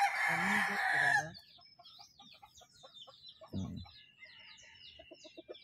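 Chickens on a chicken farm, with a rooster crowing loudly and close for about a second at the start, followed by scattered clucks and chirps and one short low thump in the middle.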